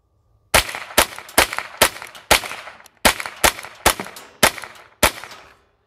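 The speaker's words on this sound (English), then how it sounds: "Remington Golden Bullets cycle fine, run fine, lock back the bolt, so no problems there." Rifle firing Remington Golden Bullets ammunition: ten sharp, loud shots in a quick, even semi-automatic rhythm, each with a short ringing decay, and nothing else audible.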